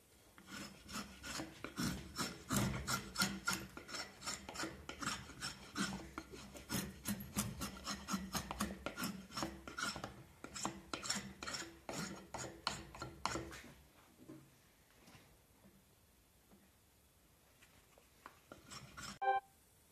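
Steady rasping and scraping strokes of a knife carving a wooden hammer shaft to fit the hammer's eye, close up and rhythmic, continuing for several seconds before stopping into near silence.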